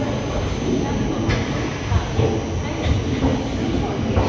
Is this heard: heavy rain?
no